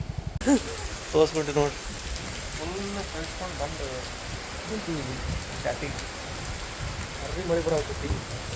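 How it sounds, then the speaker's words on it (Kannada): Steady rain pattering on a surface, a dense hiss under intermittent voices talking nearby. "ಮಳೆ ಮಳೆ"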